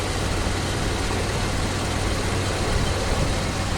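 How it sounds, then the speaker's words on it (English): Oldsmobile Cutlass 307 V8 engine running rough, giving a steady, close, loud rumble that holds without a break for a few seconds, with no voices over it. "Engine's still shaking"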